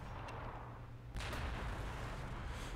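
Gunfire in the video game Warhammer 40,000 Sanctus Reach, a steady rumbling barrage that jumps louder about a third of the way in and keeps pounding as dense, continuous battle noise.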